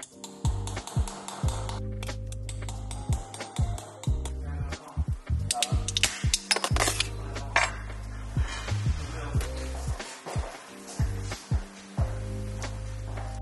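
Prying open the top cover of a Xiaomi 67W GaN charger with a small tool, close and irregular clicks, scrapes and plastic snaps in quick bursts against a steady low hum, with no talking.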